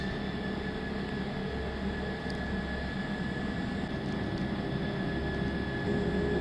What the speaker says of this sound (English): And there goes the other engine